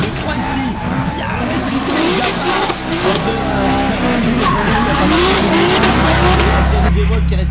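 A BMW E92 drift car slides along a wet track in competition, its engine revving hard with continuous tire noise and loud, close exhaust, while a commentator talks over it.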